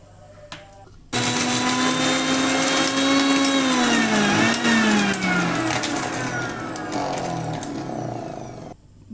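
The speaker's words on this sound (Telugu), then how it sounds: "మిక్సీలో వేసుకోండి పచ్చిమిరం అనేది తయారై ఇలా గ్రైండ్ చేసుకోండి" A mixer grinder blitzing green chillies with cumin and rock salt, starting abruptly with a loud whirring motor whose pitch sags and shifts as the load changes, then cutting off.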